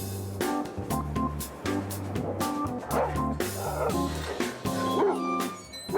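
Dogs yap and bark repeatedly at a dog park in Tel Aviv, heard under a steady bed of music with tonal bands that dominates throughout.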